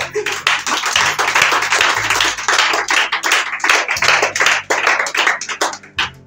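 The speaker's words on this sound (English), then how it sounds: "Celebrate Jesus with a clap." A congregation at a church service claps their hands together in a dense, sustained burst of overlapping claps for about six seconds, loud and close, with a few voices underneath.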